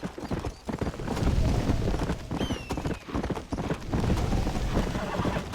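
Horse hooves clip-clop steadily with an occasional whinny from a mount in the Red Dead Redemption video game, fairly close and continuous, with someone talking over the riding sounds.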